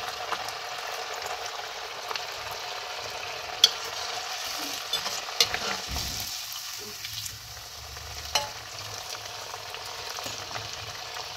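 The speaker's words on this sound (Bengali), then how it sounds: "এবার একে একে আমি এগুলোকে ছেড়ে দেবো কাটলেটগুলোকে" Chicken cutlets frying slowly in hot white oil in a kadai, a steady close sizzle and crackle with occasional clicks and a soft spatula scrape partway through.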